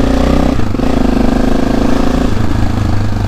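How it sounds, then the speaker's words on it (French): A motorcycle engine idles loudly and close with a raised idle, a steady throbbing rumble broken by a couple of sharp exhaust pops. "elle refait les pétarades parce qu'en fait comme j'avais baissé le ralenti, elle ne le faisait plus"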